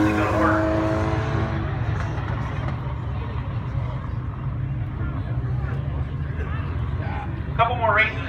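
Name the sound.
damaged race car driving away at speedway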